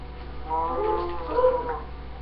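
A video game cow lets out a drawn-out, fairly close moo with a rising and falling tone, clear and alone over a low background hum.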